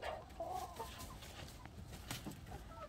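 Chickens cluck softly inside a pen that also holds rabbits, their calls fairly faint and close, mixed with a short bit of shuffling noise.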